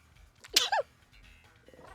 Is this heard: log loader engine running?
no